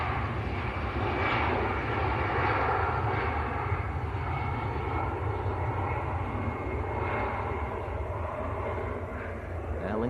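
Aer Lingus aircraft departing Manchester Airport for Dublin, a continuous, moderately loud engine roar with faint talk in the background.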